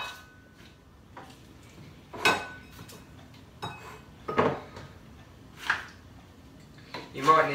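Spinach is pressed down into a blender beaker with a spoon, giving several separate clinks and scrapes of metal against the container, spaced a second or so apart and close to the microphone.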